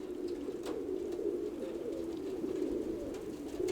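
Pigeons coo in a loft, their soft throaty calls rolling one into another, close and steady, with no talk.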